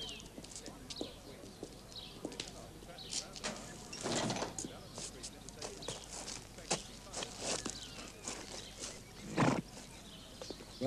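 A racehorse moving nearby with scattered hoof clops and shuffling steps, uneven and moderately close, while people talk over it.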